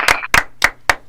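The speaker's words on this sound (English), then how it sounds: "That deserves a big old round of applause." Four sharp, close hand claps in an even rhythm in a morning radio show studio, loud and dry, with no other sound between them.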